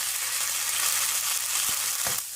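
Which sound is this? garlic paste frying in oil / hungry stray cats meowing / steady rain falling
garlic paste frying in oil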